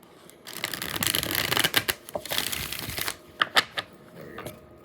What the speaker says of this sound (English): Hold on, I'm gonna get one more shuffle.